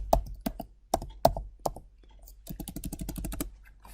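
Typing on a computer keyboard, a few separate sharp key clicks at first, then a quick burst of rapid keystrokes, close and crisp with no talking.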